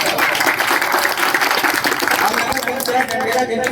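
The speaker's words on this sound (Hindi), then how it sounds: "जोरदार तालियां" Crowd applause at an outdoor political rally in Dhandera town, Roorkee, makes a dense, continuous wash of clapping and crowd noise throughout, fairly loud and near.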